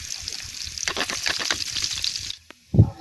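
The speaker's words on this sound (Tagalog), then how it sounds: "At pag mainit na mantika, nilagay ko na ang bawang. Lulutuin ko lang po ang bawang until mag golden brown na ito." Garlic frying in hot oil with a steady, close crackling sizzle that cuts off suddenly, followed by a single dull knock of a utensil against the pan.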